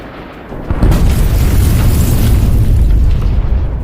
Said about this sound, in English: The second personnel carrier hit a mine and was rendered inoperable